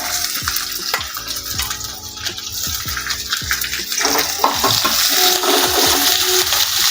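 Garlic and green chili frying in a pan, joined by onion for veg hakka noodles, with a steady wet sizzle and repeated stirring scrapes that grow busier and louder toward the end.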